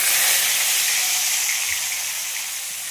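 Pieces of fish fry lightly in a pan with a loud, steady, broadband sizzling hiss that fades slightly toward the end, with no voices over it.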